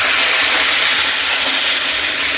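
Milk poured into a pan of sweet potato cooked in ghee for sweet potato payasam, a loud, steady hiss and sizzle that holds evenly throughout with no talk.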